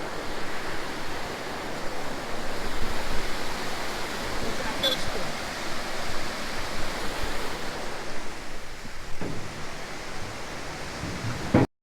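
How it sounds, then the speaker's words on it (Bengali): Waterfall stream water rushing near Bindu in the Dooars, a loud, steady, close broadband roar that runs unbroken for the whole stretch before cutting off abruptly. "অ্যাপেলের মতন ঝর্নার জল আসছে"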